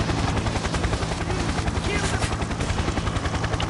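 Helicopter rotor thumping steadily in the Payday 2 video game, loud and close, mixed with bursts of machine-gun fire throughout.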